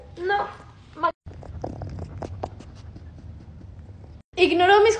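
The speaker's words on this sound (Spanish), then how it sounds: "Escuchen cómo ronronea." Soft, steady purring of a cat beneath a stretch of speech, with a person talking loudly at the start and again at the end.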